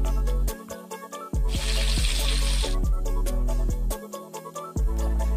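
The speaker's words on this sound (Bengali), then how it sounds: "মাছের একদিক ভাজা হয়ে গেছে, এবারে উল্টে আর একদিকও সেম ভাবে ভেজে নেব।" Pomfret fish frying in a pan gives a short burst of hissing sizzle, mostly buried under loud background music that plays throughout.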